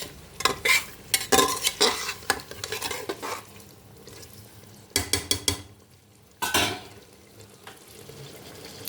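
Curry with sour yogurt being sautéed and stirred in a pan, with a spoon scraping and clattering in bursts of stirring separated by brief pauses, close and fairly loud with a light sizzle underneath.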